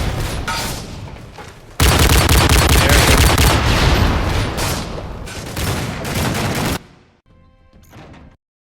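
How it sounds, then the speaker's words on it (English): Dense, loud gunfire from a shotgun in the video game Modern Warfare 3, with rapid repeated blasts and crashes filling most of the stretch before dropping to a quieter tail near the end. "I use my shotgun."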